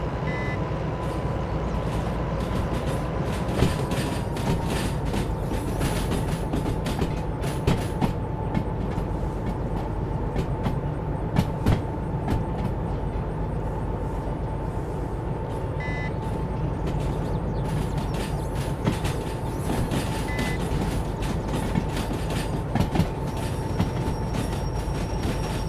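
A locomotive reversing to pick up cars in Derail Valley, with a steady engine rumble, a sustained warning tone and occasional clanks and hisses from the rail equipment.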